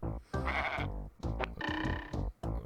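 A goat's sleeping sound effect from the Super Noah's Ark 3D video game: a series of harmonic bleating cries with short gaps between them, loud and close, with no talk over it.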